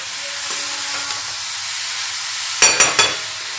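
Grated cauliflower sautés with spices in a pan, giving a steady close sizzling hiss, broken near the end by a few quick, sharp clatters of stirring against the pan.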